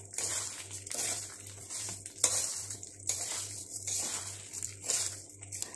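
Washed and wiped rice fries in a pan for chicken biryani, with a spoon scraping and stirring in rhythmic bursts over a soft sizzle and a low steady hum, close up and with no voices.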